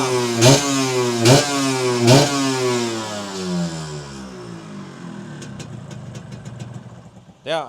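A Yamaha RXZ two-stroke motorcycle fitted with a GSM carburetor needle revs up close in three sharp, quick blips, then settles into a rattly, uneven idle before a final brief rev.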